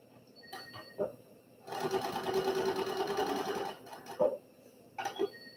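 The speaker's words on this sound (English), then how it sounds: "then you're going to sew straight down the other side, just 1/4 of an inch from that edge" A sewing machine stitches quilt fabric in a short, fast burst of mechanical whirring and rattling, close by, framed by a few clicks and handling noises before and after.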